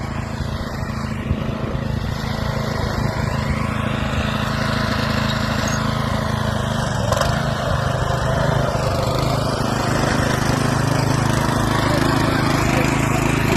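A walk-behind tractor (motoblock) engine runs loud and steady while tilling soil during autumn field work, a continuous close mechanical drone with no pauses.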